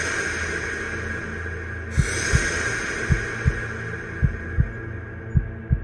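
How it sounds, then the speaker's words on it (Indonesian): Sound-effect heartbeat thumps in pairs over a dense droning hum, low and throbbing, the double beats coming steadily closer together as the pace quickens. "Detak jantung mereka berdegup semakin cepat."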